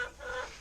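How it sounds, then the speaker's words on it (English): Chickens clucking faintly in another room of a coop setting, soft continuous fowl murmurs heard at a distance. "we have some birds making noise in the other room"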